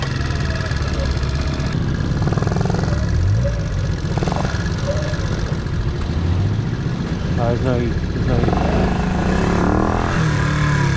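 A small Honda Cub C65 motorcycle engine idles continuously, its low, even putter steady and close, with faint background noise around it.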